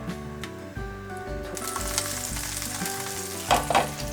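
Dried pollock (hwangtae) sizzles in a pan over low heat: a steady, close frying crackle that runs throughout and briefly flares louder near the end, over faint tonal background sounds.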